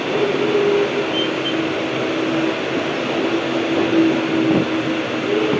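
A local train running toward Sealdah gives a steady, loud rumble of wheels and carriage noise, with a faint hum in the background that carries on without a break throughout.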